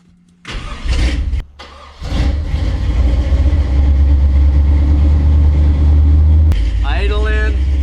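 A 1968 Chevy C20 big block engine starts for the first time in years, cranking in bursts before catching into a loud, close, rumbling idle that runs steadily, with someone talking near the end.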